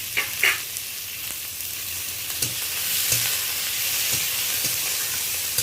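Onions and tomatoes fry together in a pan with a loud, constant sizzle and hiss, broken by occasional sharp clicks and scrapes of stirring.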